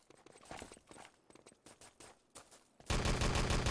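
Gunfire from the video game Enemy Territory during a 6-on-6 LAN tournament match: scattered rapid shots crackle in quick bursts, then a louder, dense stretch of continuous automatic fire closes it out.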